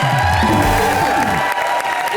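A studio audience at a live Hindi comedy show breaks into applause with cheers and whoops, loud and continuous, while a musical sting plays beneath the crowd.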